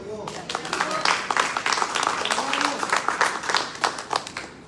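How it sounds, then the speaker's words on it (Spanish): A church congregation gives a loud burst of applause during a Spanish-language sermon, dense clapping sustained across the whole stretch, with a voice audible underneath. "Dale un fuerte aplauso a Dios."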